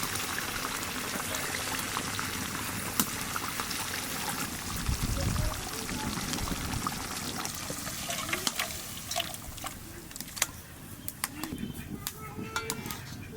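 Shorshe ilish, hilsa fish in mustard gravy, simmers in a pot with a soft steady bubbling, and a brief pour of raw mustard oil is followed by faint scattered clinks and light clicks.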